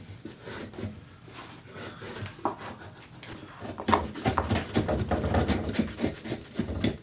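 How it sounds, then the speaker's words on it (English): Draw knife stripping bark off a wooden log, a series of scraping, rasping strokes, quieter at first then louder and denser, close by with no talk. "I'm just going to take my little draw knife and just strip some bark off of here"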